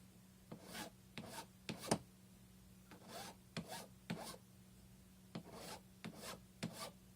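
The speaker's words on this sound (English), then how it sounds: "So we want to file the edge flat." A file strokes along the edge of a wax carving block to flatten it, a series of short, close, dry rasping passes in irregular groups against quiet background.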